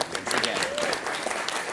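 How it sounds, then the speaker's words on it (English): Applause from an evening event audience, a steady patter of many hands clapping with a voice speaking over it. "Round of applause."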